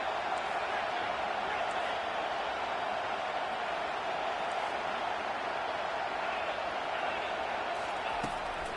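A football stadium crowd roars for the defense on a big third down during a UNC versus Washington game, a dense, sustained roar of distant cheering with a commentator talking over it.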